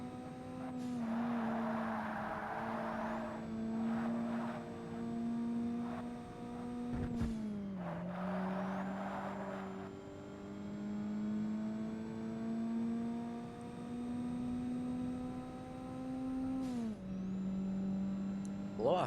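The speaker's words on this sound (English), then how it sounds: "Blow-off valve sounds pretty decent." A race car's engine in Forza Motorsport on Xbox, low-power open class, drones steadily and shifts pitch through gear changes, with breathy blow-off valve hisses between pulls.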